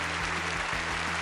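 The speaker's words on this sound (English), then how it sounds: "The crowd cheered excitedly." A crowd at a surfing tournament cheers and applauds excitedly, a steady, dense wash of clapping and shouting that fills the whole moment without pause.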